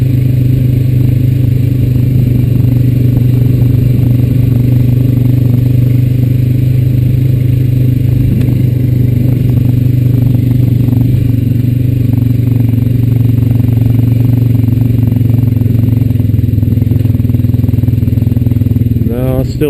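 A Honda Rancher 420AT ATV riding up a wooded path, its engine droning loud and steady close by with rattling and clatter throughout.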